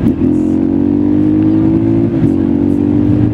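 KTM 625 single-cylinder motorcycle engine revving close and loud, a strong steady throb with a slight dip and pickup partway through.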